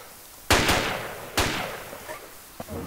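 Gunfire in the military video game Arma 2 (Project Reality mod): two separate sharp reports with echoing tails, then fainter distant shots, moderately loud, with no talk.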